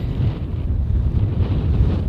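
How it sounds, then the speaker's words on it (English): Strong wind buffets the microphone in a deep, continuous roar that rises and falls slightly, with no other sounds. "Very, very windy today."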